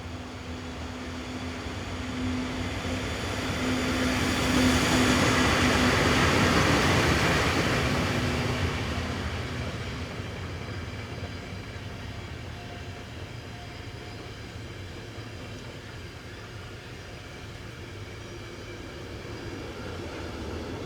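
A Swiss freight train hauled by a Class 420 electric locomotive, sometimes with a second dead locomotive in the consist, passes on the Olten–Oensingen main line. A steady rumble and rolling noise swells as it nears, peaks, then fades while the wagons keep rolling by.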